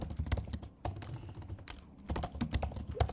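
Rapid, irregular clatter of keys on a computer keyboard while code is typed, close and fairly loud with brief pauses between bursts, no voices.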